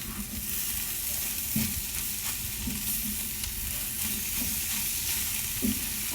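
Ampalaya, bitter gourd, being sautéed in oil gives a continuous close sizzle, broken every second or so by the scrape and clack of a spoon stirring against the pan; no one talks.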